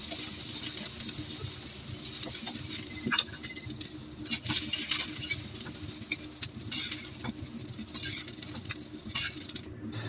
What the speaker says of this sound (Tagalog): Isot lang yung ginger and then ipan-fry yung celery at saka yung carrot.